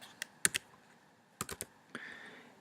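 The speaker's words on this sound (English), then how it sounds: "we're going to be pushing the CEC button first" Calculator buttons pressed, the clear-entry key first: several sharp plastic clicks come in small clusters, with some single presses between them. They are faint and close, with no talk.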